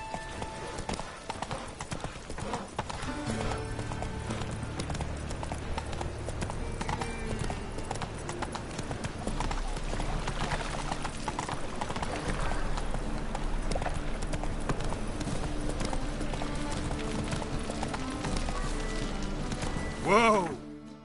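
Roach the horse gallops steadily in The Witcher 3 video game, a continuous rhythmic clatter of hooves under game music and voices, ending in a brief whinny.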